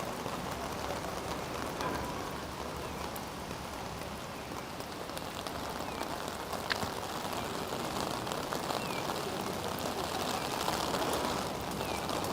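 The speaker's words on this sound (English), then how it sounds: "You didn't know you were getting some rain ASMR today." Sudden rain pours steadily on the grounds of Osaka Castle during cherry blossom season, a dense, even hiss lasting throughout with no break.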